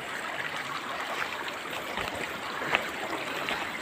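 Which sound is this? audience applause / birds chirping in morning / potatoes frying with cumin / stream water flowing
stream water flowing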